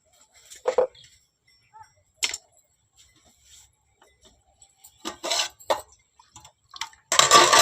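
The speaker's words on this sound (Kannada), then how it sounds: "ಈಗ ಅವನಿಷ್ಟನ್ನು ಕಟ್ ಮಾಡ್ಕೋಬೇಕು." A knife cutting green chillies for a vegetable palya: a few sharp, irregular taps spaced seconds apart, then a denser burst of cutting at the end, close and fairly loud with no talk.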